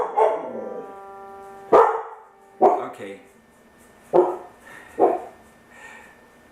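A pet dog barks five times in sharp, separate bursts a second or so apart, close and loud, over a ringing guitar string during tuning, with a brief spoken word from a person.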